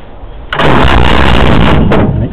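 A small engine on a test stand fires up with a sudden loud roar after a short rumbling crank, running harsh and close for about two seconds.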